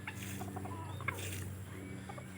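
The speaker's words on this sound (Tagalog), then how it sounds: "Naririnig niya may manok." Neighbours' free-roaming Chinese chickens cluck in short scattered calls at a distance over a steady low background hum, outdoors in the morning while plants are being watered.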